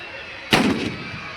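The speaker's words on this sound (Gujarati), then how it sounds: "ફટાકડા ફૂટવાનું શરૂ થઈ ગયું છે" A single sharp firecracker blast at a Dussehra celebration in Bhavnagar, loud and close, followed by a brief rumbling decay over steady crowd noise.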